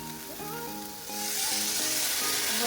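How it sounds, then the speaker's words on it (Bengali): Masala paste hits a hot frying pan in a home kitchen, and the hiss swells louder after the first second into a dense, continuous sizzle over a faint tonal melody. "ভাজা হয়ে গেছে এখন যে মশলার পেস্টটা বানানো হয়েছিল সেটা দিয়ে দেবো"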